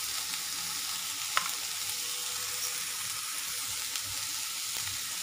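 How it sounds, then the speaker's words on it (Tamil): Green beans sauté for beans usili in a pan, giving a steady, even frying hiss that runs throughout with one brief sharp clink partway through; no one talks. "பீன்ஸ் கொஞ்சம் நல்லா வதங்கட்டும்."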